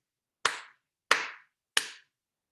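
Three sharp hand claps spaced evenly about two-thirds of a second apart, each with a quick decay, close and clear against silence.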